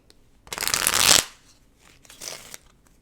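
Tarot cards riffle in two quick shuffles, the first a loud, close, crisp burst lasting under a second, the second a softer, shorter ripple after a brief pause.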